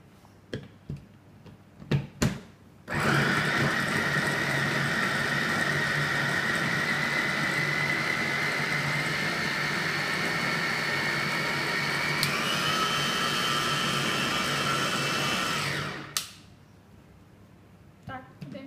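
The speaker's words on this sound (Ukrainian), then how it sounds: "поставили чашу блендера, закриваємо і збиваємо" Electric blender whirring as it purées trimmed tomatoes for adjika, a few clicks as the bowl is set, then a loud steady motor drone for about thirteen seconds with a pitch shift midway, stopping abruptly.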